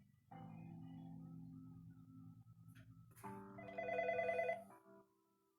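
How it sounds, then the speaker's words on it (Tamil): A telephone rings in a long tone, followed by a brighter, louder ringing burst that fades out, heard alone in a quiet room without talk. "இப்போ நான் டெலிஃபோன் அடிக்க போகிறேன்"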